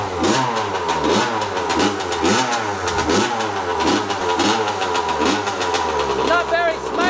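A small two-stroke motorcycle engine from a vintage dirt bike, kick-started with the choke on, fires and is revved in rapid repeated bursts, loud and close with a raspy rising and falling note and a voice speaking over it.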